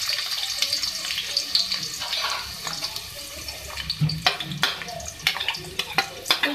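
Three medium onions fry in hot oil for an aloo chicken dish, making a close, irregular sizzle and crackle with bursts of sharper pops and spits toward the end.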